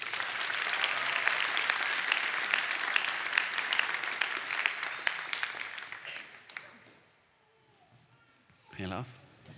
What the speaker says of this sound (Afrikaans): Kan ons vir 'n lekker hande klap gee?